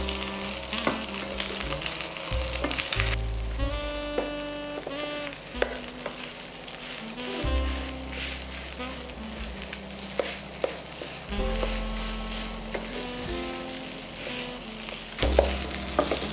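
Rice frying in a pan with bell pepper and ham, a loud continuous sizzle broken by stirring scrapes and clatters, close and with no talk over it.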